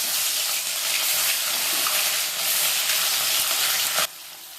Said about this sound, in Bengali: এবারে মাছ একটা একটা করে ছেড়ে দিচ্ছি।